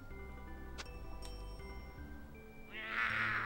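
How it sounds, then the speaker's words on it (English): A black cat meows in the game Thousand Arms, a short rising cry near the end over steady looping game music with a few chime-like accents. "Oh, it's a black cat."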